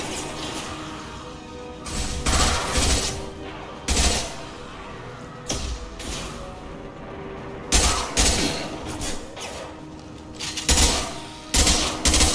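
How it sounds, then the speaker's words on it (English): Gunfire in the Mass Effect 2 video game, repeated loud bursts of shots every couple of seconds over a low ambient bed of game sound. "Firing an impact shot!"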